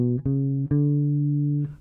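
A bass guitar plays a short legato lick with position shifts, a few sustained low notes gliding smoothly into one another with almost no gap, heard alone and close.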